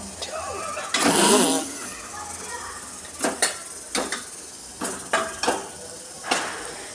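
Seasoned stir-fried roti being stirred in a pan, the utensil scraping and clinking against the metal in short, spaced knocks, one longer rattle early on and then several sharper taps, fairly close.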